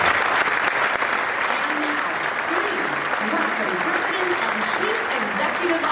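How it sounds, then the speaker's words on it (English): Sustained applause from a large convention crowd honouring the 2022 IAAPA Hall of Fame inductee, a dense even roar of clapping with talking voices mixed underneath for the full stretch. "Let's have one more round of applause for our 2022 Hall of Fame inductee"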